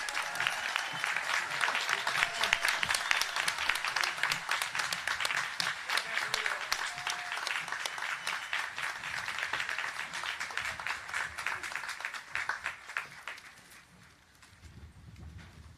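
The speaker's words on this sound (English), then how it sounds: "How about a big round of applause for the class of 2022?" Large audience applauding and cheering for a graduating class of 2022 at a school graduation ceremony, a dense sustained roar of clapping that fades toward the end.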